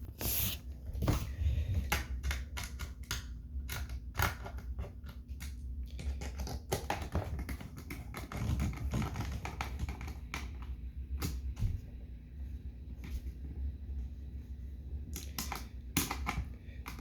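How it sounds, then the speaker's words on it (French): Screws being driven into an apple peeler assembly, a steady run of close, dry clicking and ratcheting taps with occasional sharper snaps and creaks, carrying on throughout with no talking. "C'est le temps de visser."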